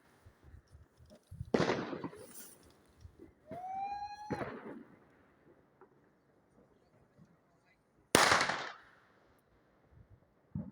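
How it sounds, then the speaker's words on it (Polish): New Year's Eve firecrackers go off outdoors: a few sharp, loud broadband bangs with short decaying tails, separated by quieter stretches, plus a brief whistling tone midway. "petardy chyba strzelają"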